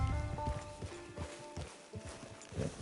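Hollow clip-clop of horse hooves at a steady walking pace in the video game Red Dead Online, close by, with a faint tonal hum underneath and no voices.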